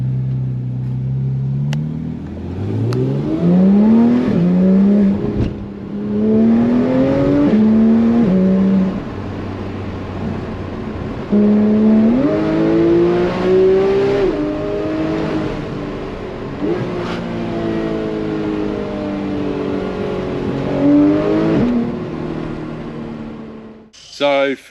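A Porsche GT3 with a solenoid-controlled butterfly-valve exhaust accelerates hard on a mountain road, revving up through several gear changes with rising engine pitch, loud and close, dropping briefly between shifts.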